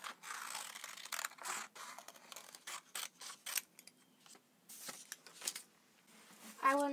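Scissors snip through white paper, cutting out a deer shape stamped in ink for a handmade Christmas card, a close series of short crisp cuts with brief pauses, fairly quiet indoors.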